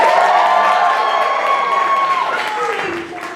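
An improv show audience cheers and whoops loudly at a comedy theater, a dense, sustained crowd roar with scattered clapping that holds steady before easing off slightly near the end.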